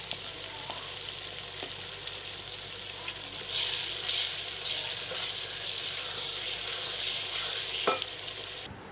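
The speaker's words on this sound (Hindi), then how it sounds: "इसको अच्छा सा भूनेंगे, पकाएंगे, दही का पानी भी निकलेगा" Masala mixed with yogurt fries and sizzles in a pan for a fish curry while a spoon stirs it, giving a steady close sizzle with scraping and clinking strokes and no talk.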